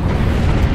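Missiles launching and detonating in the space combat game Dreadnought: a loud, dense rumble of blasts and booms filling the whole moment with no break.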